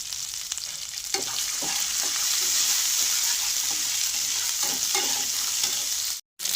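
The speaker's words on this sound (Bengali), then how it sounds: "এগুলোকে আমি ভালো করে ভেজে নেব যতক্ষণ না আদা আর কাঁচা লঙ্কার কাঁচা গন্ধটা চলে যায়।" Grated ginger and chopped green chillies fry in oil in a pan, giving a loud, steady, close sizzle with occasional stirring scrapes. The sound cuts out briefly near the end.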